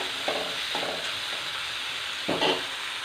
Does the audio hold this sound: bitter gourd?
yes